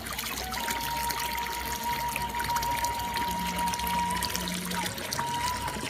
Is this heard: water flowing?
yes